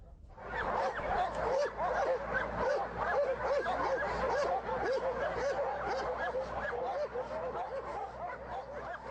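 Many military dogs bark and yip in a dense, continuous chorus at an army kennel of an infantry dog-handling regiment, loud and close, with overlapping barks filling the whole stretch.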